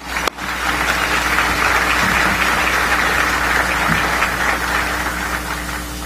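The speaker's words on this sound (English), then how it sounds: "Let's give them a round of applause." Audience applause at a Chicagoland Chamber of Commerce event, a steady wash of clapping from a seated crowd that holds at an even level throughout, with a low hum underneath.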